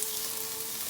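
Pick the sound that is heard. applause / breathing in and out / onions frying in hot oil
onions frying in hot oil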